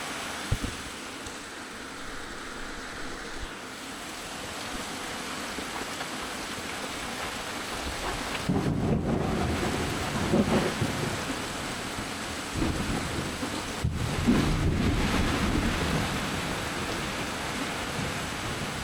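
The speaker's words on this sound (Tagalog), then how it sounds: "lakas ng ulan" Heavy rain pours steadily during a power outage, a dense hiss that swells louder partway through, with occasional low rumbles and brief dips in intensity.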